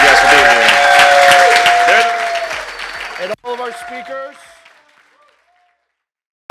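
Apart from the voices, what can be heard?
conference audience applause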